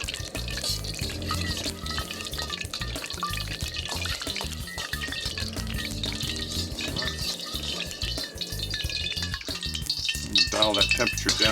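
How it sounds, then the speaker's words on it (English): Soybean oil heating in a wok for BBQ pork lo mein, giving a steady, loud sizzle and crackle that runs without a break and swells slightly near the end, with no one speaking. "heat up the wok and garnish it with some fresh soybean oil"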